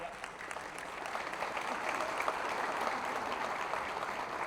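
A crowd at a Pie Night gathering claps steadily for several seconds, a soft, even wash of applause that builds slightly, with some talking underneath.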